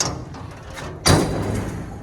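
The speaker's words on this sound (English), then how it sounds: "Shut the shop door." A door slides shut with a single sudden thud, followed by a brief rumbling rattle that fades.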